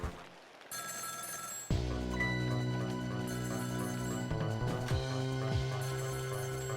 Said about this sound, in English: Definitely answer that phone.